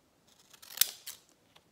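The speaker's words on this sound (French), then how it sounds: "avec ce genre de ciseaux-là, c'est quand même bien pratique" Decorative scissors snip through decorated craft paper in a few quick, close cuts, one sharp crisp snip standing out, in a quiet room with no talking.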